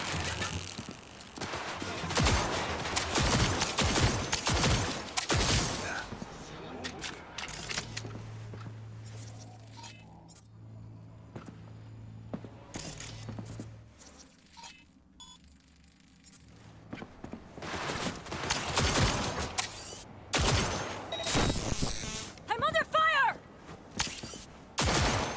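Gunfire in the video game Cyberpunk 2077, including shotgun blasts: dense, loud volleys of shots and impacts in bursts, a quieter stretch with a low hum in the middle, then heavy firing again.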